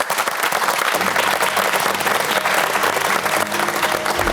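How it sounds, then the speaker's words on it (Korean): A studio audience at a KTV national broadcasting anniversary special breaks into loud, dense applause that fills the room, with music beginning to swell beneath it after the first second. "박수로 만나보시죠"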